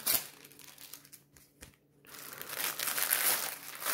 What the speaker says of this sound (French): Kaline, arrête de déchirer le carton.